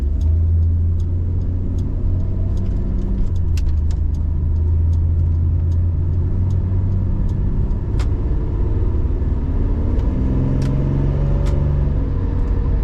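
A 33-year-old 1990s Holden Ute driving on a highway and city commute, its low engine drone and road rumble steady and close from inside the cab, with small clicks and rattles over the top.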